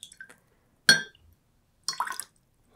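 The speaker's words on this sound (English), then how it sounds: "Let's listen to the fresh water." Sparse water sounds: a single sharp splash or drip, then a short burst of bubbling, trickling liquid, with near silence between.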